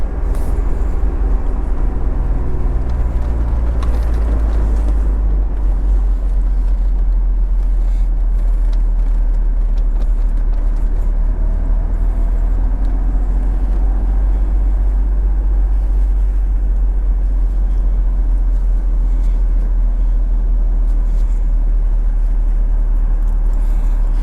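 Acura NSX driven hard around a race circuit, a loud steady engine drone with constant low rumble and shifting tone running throughout, no voices.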